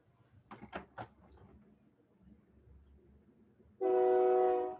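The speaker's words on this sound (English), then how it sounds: "Okay, that's the train." A train sounds a loud, sustained horn blast near the end, preceded by a few sharp knocks and low rumbling, heard near with no talking.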